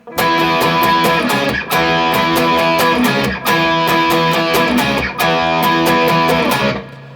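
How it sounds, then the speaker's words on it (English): Electric guitar through an MXR Timmy overdrive pedal strumming a chord riff from a song in steady repeated phrases, loud and full with a gritty edge, no voices. "I've got a slight bit of overdrive using an MXR Timmy pedal."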